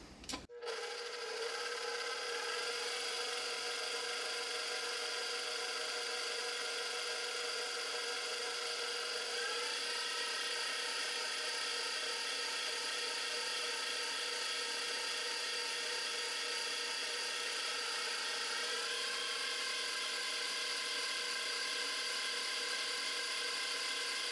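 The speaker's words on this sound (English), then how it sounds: "Probably should have put the whisk on here. That's what we're going to do. And the whisk is on." Stand mixer fitted with a whisk attachment running steadily while making homemade butter, a continuous close mechanical whir with a sharp start at the beginning and no talking.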